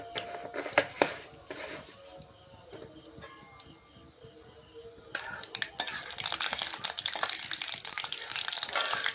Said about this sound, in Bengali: এরপর দুটো শুকনো লঙ্কা কেটে দেব আর ফোড়নের জন্য দেব কিছুটা কালো জিরা